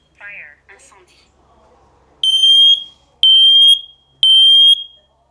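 A smoke detector with a sealed ten-year battery sounds three loud, piercing electronic beeps in a steady rhythm, heard close and clear after a few brief quieter sounds.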